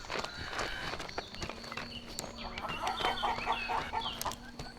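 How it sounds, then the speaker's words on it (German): Hens clucking in a Bavarian farmyard, a steady scatter of short, moderately close calls over a low background hum, with rustling movement and footsteps mixed in. "Da kackern die Hähner."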